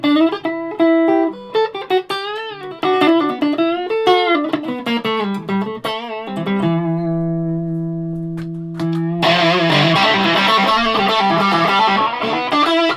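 A Fernandes Strat electric guitar played with distortion through a Vox VT20+ amp: loud, saturated notes and bending phrases, a long sustained held chord, then a dense, bright strummed burst to close.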